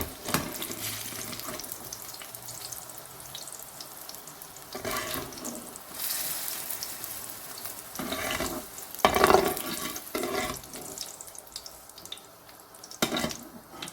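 Eggplant frying in a pan until light brown, giving a soft continuous sizzle broken by clattering stirs and scrapes, with a brief louder clatter partway through.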